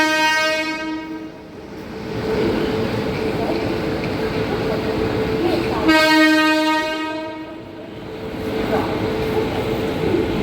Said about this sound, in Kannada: ಇದೆ ಬೆಂಗಳೂರು ರೈಲ್ವೆ ಸ್ಟೇಷನ್ನು